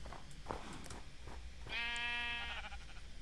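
A pink sheep in Minecraft gives a single drawn-out bleat that wavers, fairly close, after some quiet shuffling and soft background noise.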